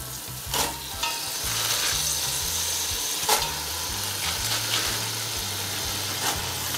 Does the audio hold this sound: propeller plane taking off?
no